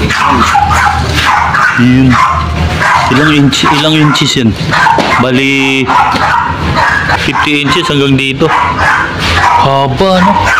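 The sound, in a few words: dogs barking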